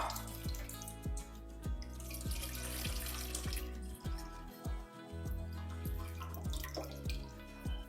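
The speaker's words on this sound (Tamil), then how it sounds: "இந்த ஊற வச்ச புளியை நல்லா கரைச்சிட்டு வடிகட்டி இதில் ஊற்றிக்கலாம் பாத்திரத்தில்." Soaked tamarind water, strained, trickles and drips steadily into a vessel in a kitchen, a regular run of close liquid drops and light pouring with no talking.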